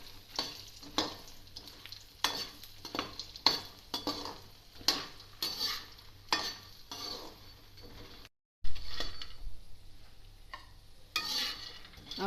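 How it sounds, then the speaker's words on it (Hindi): Puffed fox nuts (makhana) frying on low heat while being stirred, producing repeated scraping and clinking strokes of a spoon against the pan over a soft background sizzle, close and unhurried, with one brief gap and no speech. "अब ये मैं मखाने फूल मखाने भी फ्राई करने लगी।"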